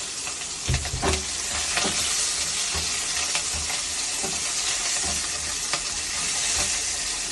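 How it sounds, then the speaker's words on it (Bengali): Slit green chillies and nigella seeds sputter in hot fish-frying oil for a Bengali sour-spicy puti fish dish, giving a steady, loud sizzle with scattered crackles and a few utensil stirs throughout. "মাছ ভাজার তেলের মধ্যে দিয়ে দেবো কিছু চেরা কাঁচা লঙ্কা, আর তার সঙ্গে দিয়ে দেবো একটু কালো জিরে।"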